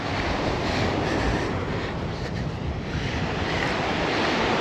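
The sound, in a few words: wind at the beach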